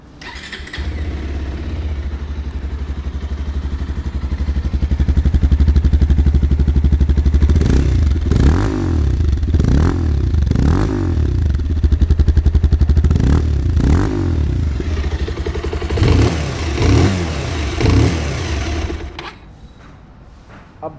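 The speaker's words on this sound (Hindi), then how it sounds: "मैं एक बार दोनों बाइकों की" Exhaust of a Bajaj Pulsar motorcycle, heard up close: a loud idle burble rises into a series of sharp throttle revs, drops back to idle, then cuts off near the end.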